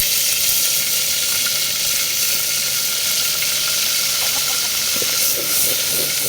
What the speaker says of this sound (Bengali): তেল দেবো এখন রসুন দেবো